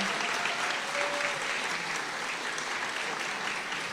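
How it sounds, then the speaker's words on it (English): Dense, sustained applause from a large crowd at a political rally in Minnesota, a loud continuous wash of clapping with no pauses, filling the whole stretch. "Can we get a round of applause for them, for the folks out there?"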